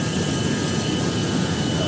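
Steady, loud airplane engine drone from the GeoFS flight simulator video game, a continuous unbroken roar with no talking over it.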